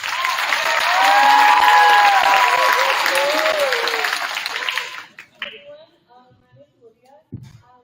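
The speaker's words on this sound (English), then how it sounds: "Give her a round of applause." Loud audience applause from a school capstone presentation crowd swells for about five seconds, then fades into scattered claps and faint voices before a brief closing bump.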